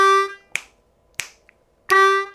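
A C harmonica sounds two separate 2-draw notes of a blues turnaround lick, each a steady harmonic-rich reed tone lasting about half a second, with short sharp clicks and a pause between them.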